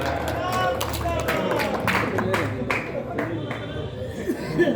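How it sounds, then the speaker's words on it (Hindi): An audience at an outdoor Hindi poetry recital breaks into loud applause, a rough wash of many clapping hands with crowd chatter and murmuring running underneath. "एक बार जोरदार तालियां सबका"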